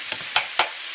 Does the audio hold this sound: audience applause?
no